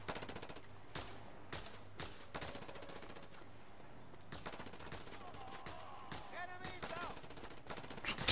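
Gunfire from enemies shooting at the player in Just Cause 2: sharp bursts and single shots crack repeatedly over a constant game-noise background, with a rising metallic whine near the end.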